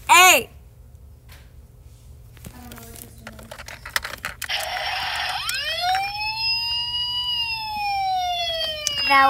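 A wailing electronic siren rises and sweeps in pitch, sustained and fairly loud, with tapping clicks and brief game sounds earlier.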